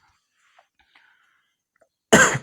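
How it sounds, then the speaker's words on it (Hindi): A single sharp cough bursts out close to the mic after a near-silent pause with a few faint clicks. "थोड़ी खांसी आ रही है"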